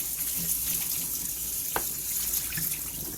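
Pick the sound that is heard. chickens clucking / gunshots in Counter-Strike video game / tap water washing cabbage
tap water washing cabbage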